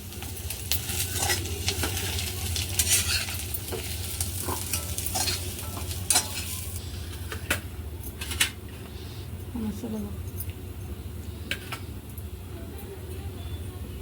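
Roasted ginger, garlic and green chili are scraped and stirred out of a hot pan with the gas switched off, giving scattered metallic scrapes and clinks over a faint residual sizzle and low hum.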